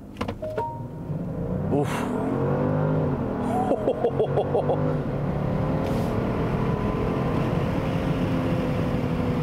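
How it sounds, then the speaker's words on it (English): A Genesis GV70 Sport with its twin-turbo V6 launches hard from a stop under launch control, the engine note rising through sweeping gear changes and holding a strong drone, close inside the cabin, with a brief exclamation from a voice. "just floor the brake and the accelerator and it'll give you the launch"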